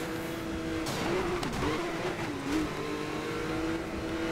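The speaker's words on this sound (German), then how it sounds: "Einfach mal Nitro einsetzen und den hier rammen kurz." Race car engine in Need for Speed Most Wanted (2012), a red Porsche hitting nitro and ramming a rival: a steady loud engine drone with rising whine and brief tire squeals, no talk.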